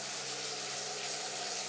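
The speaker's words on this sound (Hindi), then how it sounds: "फिर बाल्टी को पानी से भरते हैं" A bucket fills with water from a tap in a steady, loud, unbroken gush. It stays close and constant, with no voices.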